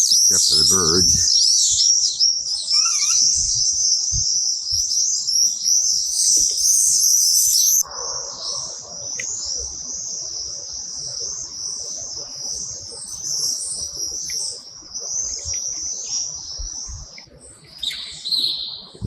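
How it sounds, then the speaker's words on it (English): Birds chirping at about 6:45 in the morning outside an empty prayer hall in Uzbekistan, a dense, steady wash of high, shrill calls and tweets that thins a little partway through. "Except for the birds."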